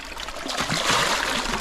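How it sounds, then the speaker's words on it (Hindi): Water pours from a tap into a bucket in a village courtyard, a steady close splashing trickle that grows slightly fuller and louder as it runs. "देखो इधर बाल्टी है हमारी रखी हुई और इसमें पानी आ रहा है"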